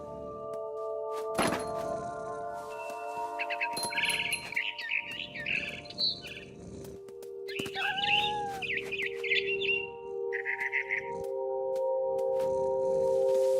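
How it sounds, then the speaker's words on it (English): Bursts of barn swallow chirps and twittering calls in the video game What Remains of Edith Finch, amid clunky thumps and tonal game-like music, with short pauses between the chirping phrases. "Then I heard chirping outside my window. It was a barn swallow"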